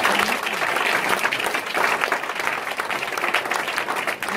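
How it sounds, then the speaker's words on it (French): A church congregation breaks into loud, sustained applause during a sermon, dense clapping filling the room without pause. "Allez, on acclame son Dieu."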